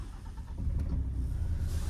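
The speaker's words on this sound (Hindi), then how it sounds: "ये अपनी गाड़ी जो है स्टार्ट हो गई है।" A diesel car engine cranks over and catches during a pre-delivery inspection, starting with a low rumble that swells into a steady, fairly loud idle with no one talking.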